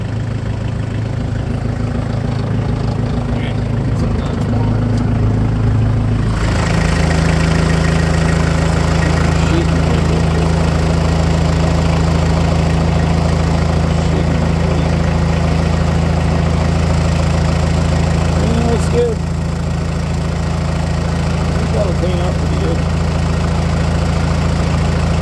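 Diesel engine of a Kubota F3680 mower idling steadily after a cold start, a loud, even low rumble with a constant hum, with a slight shift in tone early on before settling into an unbroken idle.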